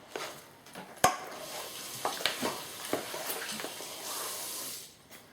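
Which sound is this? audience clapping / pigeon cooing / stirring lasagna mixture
stirring lasagna mixture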